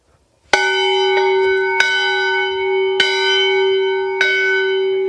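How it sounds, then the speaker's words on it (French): Village bell in Majastre, a rural French hamlet, struck four times at slow, even intervals, each loud clear ring decaying into a long sustained hum, heard alone in a quiet setting. "On va les prévenir de notre arrivée avec cette cloche."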